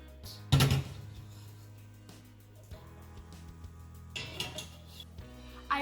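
Pots and pans clatter on a home stove as boiled potatoes are drained and swapped out for a pot of sugar syrup, with a loud metallic knock early on and lighter clinks later, no talk.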